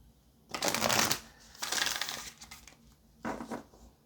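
Tarot cards shuffled in three quick riffling bursts, close and crisp, separated by brief pauses with no talking.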